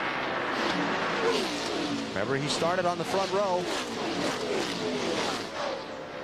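A NASCAR Winston Cup stock car's engine drones and revs at Atlanta Motor Speedway, a sustained mid-pitched roar with rising and falling pitch sweeps as cars pass, beneath continuous commentator talk.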